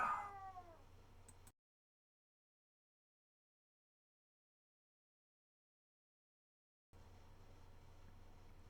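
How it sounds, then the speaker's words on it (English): A frustrated male house cat that wants to go outside meows loudly in a few drawn-out, wavering cries near the start, followed by a long silent gap and then faint room noise. "the reason why he's meowing so much"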